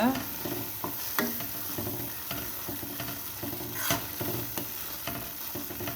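A spoon stirs chana masala through a pan with a steady sizzle underneath, giving repeated scraping strokes and occasional sharper clacks against the pan, close and moderately loud with no talking.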